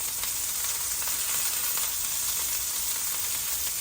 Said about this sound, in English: Cooking some bacon fat in there, or some pork fat in it.